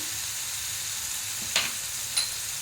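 Spices frying in a pan for a vegetarian soybean curry as turmeric goes in, a steady close sizzle with two brief sharper crackles.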